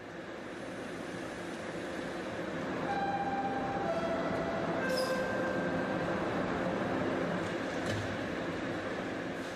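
A subway train rumbles through a busy underground transfer station, its wheels squealing in thin, drawn-out tones as the rolling noise builds and stays loud.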